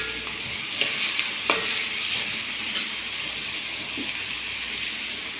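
A kappa biriyani mixture stirred in a pan makes a continuous frying sizzle with a few sharp scrapes and clinks of the spoon, close and steady, no voices.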